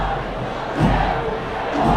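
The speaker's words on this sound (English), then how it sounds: "The crowds in the stadium are appealing for it" A soccer stadium crowd at a Seattle U23 versus Chattanooga FC match roars and shouts in appeal for a penalty, a dense, steady wall of voices that swells slightly partway through.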